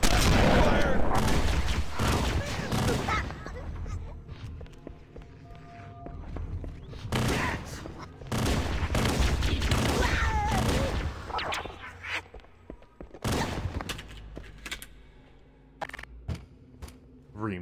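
A magnum fires in the Halo video game, loud sharp shots coming in bursts with pauses between, mixed with booming in-game combat, and a voice talks at times among the shots.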